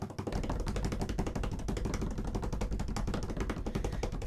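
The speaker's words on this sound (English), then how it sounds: "Still typing." Rapid, continuous keyboard typing, a close stream of dense clicky keystrokes with a steady rhythm and no pauses.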